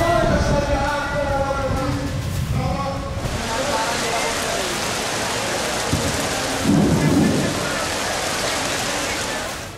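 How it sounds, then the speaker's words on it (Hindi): Rain driven by strong wind sweeps over an outdoor political rally of the PDM in Swat. A loud, steady roaring hiss fills the scene, with a voice heard over the first few seconds. "तेज हवा के साथ बारिश ने रंग में भंग डाल दिया।"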